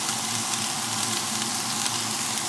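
Vegetables and garbanzo beans sizzle in a pan for tikka masala, a constant, close frying hiss with no talk.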